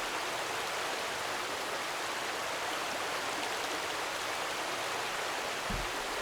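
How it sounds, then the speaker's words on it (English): A video game waterfall pours in a steady, even rush of falling water that stays constant and fairly close throughout, with no talking. "Oh, witness the fall! The waterfall!"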